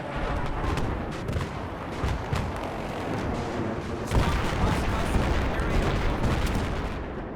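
Suppressed SCAR-H rifle fire in the video game Battlefield 3, switched to semi-auto, with repeated muffled shots cracking over a steady, busy battle din for several seconds.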